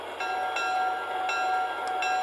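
The bell of an MTH Propane Turbine Proto 2.0 model train rings in a repeating series of bright, ringing tones over a steady electronic hum.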